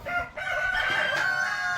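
A rooster on a farm crows clearly and nearby in one drawn-out call, with hens clucking faintly around it.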